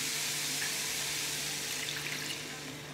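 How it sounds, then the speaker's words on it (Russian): Water pours steadily into a dry frying pan that holds a toasting rice mixture for a children's meat dish, a continuous hissing rush with no talking over it. "затем мы будем наливать полстакана воды."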